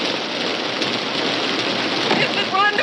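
Rain falls steadily in a dense, even hiss with a faint spattering texture, moderately soft and unbroken throughout.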